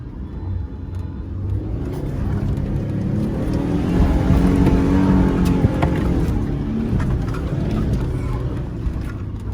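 A car with a 2-inch lift drives hard through deep ruts at a riverside campsite on the Murray River. Its engine makes a loud, continuous rumble that swells toward the middle, with no voices.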